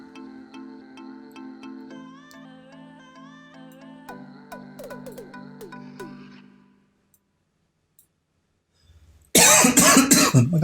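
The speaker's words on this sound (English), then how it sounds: "And I'm going to cough, hang on." A person coughs in a couple of loud, harsh bursts near the end, after a stretch of soft melodic electronic tones and a brief silence.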